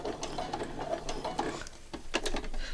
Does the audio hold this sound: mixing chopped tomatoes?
no